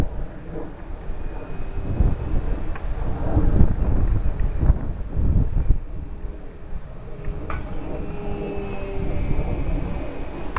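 Wind buffets the microphone at an RC plane flying field where an Extra 300 model flies, a steady rumbling roar with gusty swells over about ten seconds and no voices.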